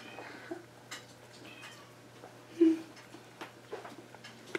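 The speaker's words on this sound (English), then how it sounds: "She's still meowing." House cat meowing indoors near an old dictating machine on a repair bench: a few short, soft mews, one louder and clearer than the rest, with faint clinks and room noise around them.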